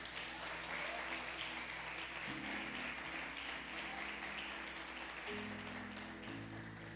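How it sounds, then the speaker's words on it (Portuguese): Sustained applause from a large church congregation, a dense steady wash of clapping with organ or keyboard chords held underneath throughout. "Dê uma salva de palmas para Jesus"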